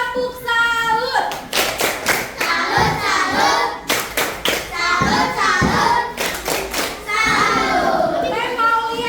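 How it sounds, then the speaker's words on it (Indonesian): Schoolchildren in an Indonesian classroom clap and chant a rhythmic tepuk salut, with loud sung phrases punctuated by sharp, evenly spaced bursts of group clapping and a few thuds. "Ayo, untuk kelompok 1 beri tepuk salut."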